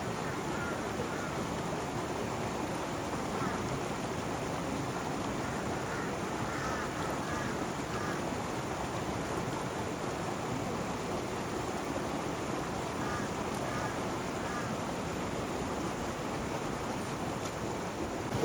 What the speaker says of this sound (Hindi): ये देखो, पाइप निकला हुआ है, पानी ऊपर से आ रहा है